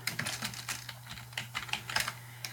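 Rapid, irregular computer keyboard typing while entering data into a spreadsheet, close and crisp clicks in quick bursts over a steady low electrical hum, with no talking.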